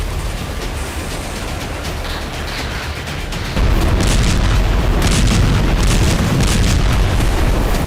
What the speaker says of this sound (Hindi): लेबनान बॉर्डर पर लगातार बारूदी धमाके